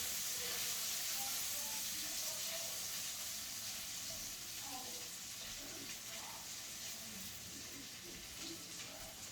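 Food frying in bacon grease in a pan gives off a continuous close hiss and sizzle with faint crackles throughout, steady and even.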